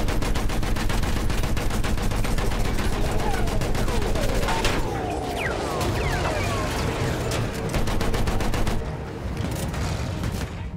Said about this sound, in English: Take down that machine gun!